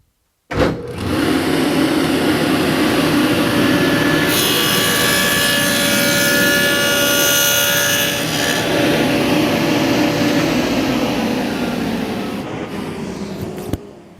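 A dial-a-width dado blade on a saw cuts a 1/4-inch-deep groove in wood, giving a loud, steady whining roar that holds for about twelve seconds after a sharp start and then tapers off, with no talking.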